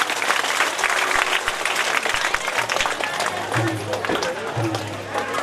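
Audience clapping hands in rhythm during a devotional chant of a Bhagwat katha at Khere Wale Hanuman ji, a dense, continuous wash of many hands, loud and steady throughout with voices mixed in.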